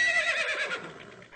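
A horse gives one clear whinny, a high quavering neigh that falls in pitch and trails off over about a second, heard alone and fairly close.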